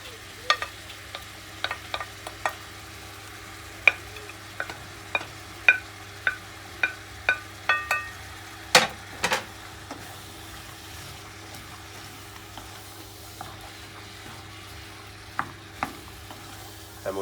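Vegetables for a lasagne frying in a pan and being stirred, with a steady sizzle broken by repeated sharp scrapes and clacks of the utensil, close and fairly loud, then the scraping thins out toward the end.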